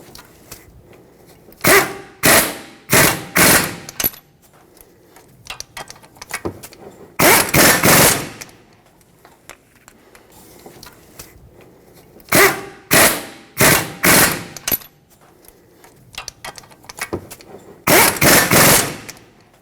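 A power tool running down steering knuckle bolts on a 2006-2010 Hyundai Sonata, heard as repeated short, loud bursts of impact rattling in three clusters, each with a longer final burst, separated by quiet gaps.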